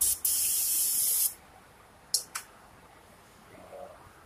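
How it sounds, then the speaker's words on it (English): Carb cleaner sprays from a can onto a rag in a close, loud hiss lasting about a second, then two short bursts follow, with quiet rustling after. "Take a little bit of carb cleaner, put it on a rag."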